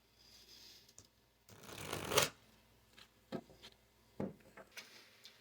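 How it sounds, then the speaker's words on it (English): Tarot cards being riffled and shuffled up close: a long papery rush, then a few short sharp snaps and taps, in a quiet room. "It's still gonna be hard for me to shuffle."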